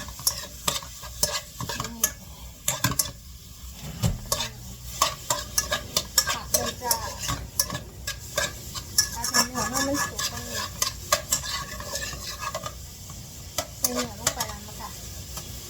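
Stir-frying with sesame oil in a pan over low heat, a soft continuous sizzle under frequent clicking and scraping of a utensil against the pan.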